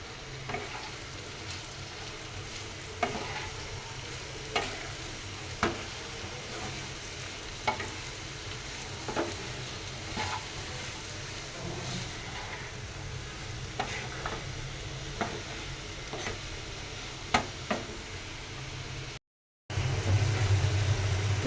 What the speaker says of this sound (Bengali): তো ডিম ভুনার জন্য পেঁয়াজটা আগে খুব ভালোভাবে ভুনা করে নিলাম।